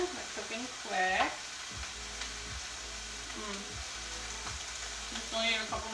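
Noodles and vegetables fry in a pan with a steady close sizzle and occasional stirring clatter, while someone talks briefly over it.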